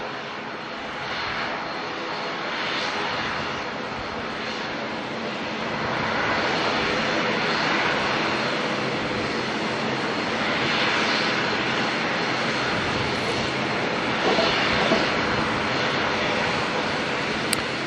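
Sustained engine roar of airliners, an Airbus A320 and an ATR, at Auckland Airport, a broad steady drone that swells gradually and stays loud throughout without voices.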